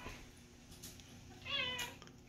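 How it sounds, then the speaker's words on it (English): A house cat gives a short meow in a dark den of a new home, a single mid-pitched call near the end, fairly close and alone against quiet room noise. "Finding his meow again."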